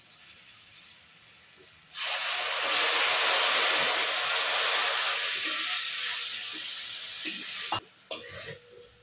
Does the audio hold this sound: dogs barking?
no